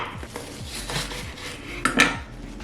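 A knife slicing a cabbage in half on a cutting board, with several soft clacks and scrapes of the blade against the board, and a sharper, louder crunch near the two-second mark.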